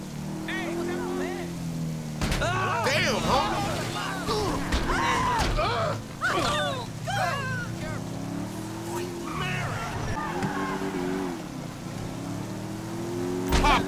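Motorbike engine in GTA V, the game's open-world crime setting, droning steadily and loud throughout with rising and falling revs, while voices talk over it.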